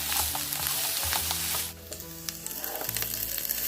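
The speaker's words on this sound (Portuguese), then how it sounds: "É só para fritar um pouquinho, só para selar um pouco aqui em volta" Salgados sizzle and crackle in hot oil for a brief sealing fry, a dense steady hiss with a slight drop partway through and scattered pops, no talking.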